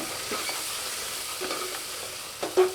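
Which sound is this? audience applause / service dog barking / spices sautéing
spices sautéing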